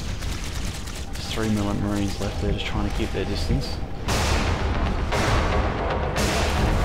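Shotgun blasts from Marines in a Natural Selection 2 match, loud repeated booms and firing layered with a commentator talking over the action.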